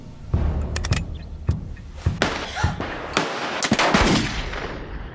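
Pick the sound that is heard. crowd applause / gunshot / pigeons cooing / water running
gunshot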